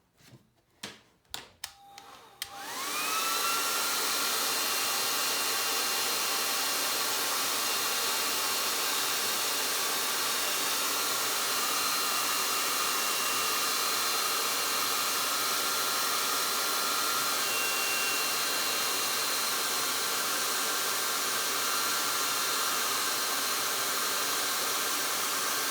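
A hair dryer switches on after a few clicks and handling knocks, then blows steadily and loudly for over twenty seconds while drying paint on a painted window piece.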